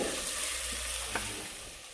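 Roasted onion fries with masala paste in a pan, an even close sizzle and hiss with a faint stirring scrape, softening slightly toward the end.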